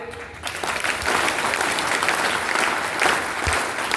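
Audience at a rural and cultural innovation talk claps loudly and steadily, a dense wash of applause filling the hall throughout.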